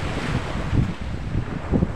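Sea waves and wind buffet a shoreline at Sitio Recudo in San Andres, Quezon, a rough, continuous roar with heavy microphone wind noise and rhythmic low surges of surf.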